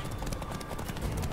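Horses at a gallop with riders from Sarda in pursuit, a rapid clip-clop of hooves drumming steadily and close throughout, loud and without pause.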